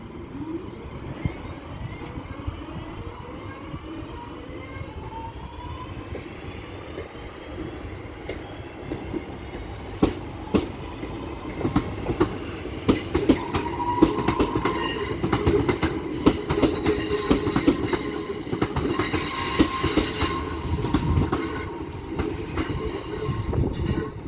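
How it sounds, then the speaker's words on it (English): A Northern Class 323 electric passenger train departs Stoke-on-Trent station, with a steady rumble building as it pulls away, wheels clicking over rail joints and squealing, and rising motor whine in the later seconds. "now getting ready to depart is 323-235 with the 11:55 Northern service from starts here at Stoke-on-Trent to Manchester Piccadilly"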